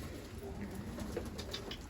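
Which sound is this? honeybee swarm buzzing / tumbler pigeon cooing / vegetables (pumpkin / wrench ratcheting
tumbler pigeon cooing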